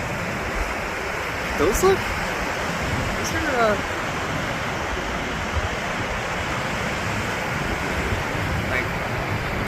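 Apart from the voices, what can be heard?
waves surfing on Lake Michigan shore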